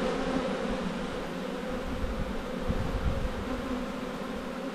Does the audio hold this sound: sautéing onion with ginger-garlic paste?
no